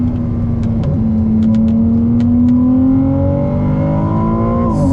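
Ferrari 296 GTB with 830 hp accelerating hard at full throttle on a track, a loud close engine note rising steadily in pitch through the gears for several seconds with no talk.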